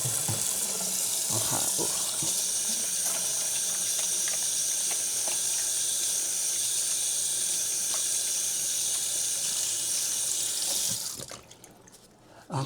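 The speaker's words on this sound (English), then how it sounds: "So give me 1 second while I get the hands washed." Water runs steadily from a kitchen tap while hands are washed, a constant close hiss and splash that cuts off near the end, followed by a brief spoken word.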